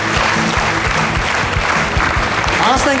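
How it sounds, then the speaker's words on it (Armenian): A TV show studio audience applauds guests with loud, sustained clapping close by, while a host speaks over it. "ևս մեկ անգամ բարձր ծափարենք տղաներին"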